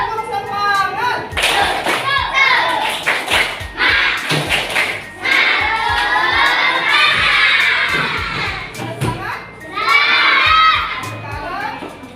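Schoolchildren in a classroom perform a rhythmic clapping cheer, bursts of patterned claps alternating with loud shouted chanting, close and energetic, with a teacher's voice leading between the bursts.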